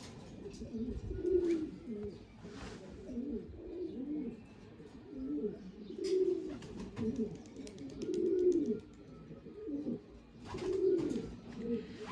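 Pigeons coo repeatedly in low, throaty rolling phrases, several birds close by with overlapping calls and faint higher chirps in the background.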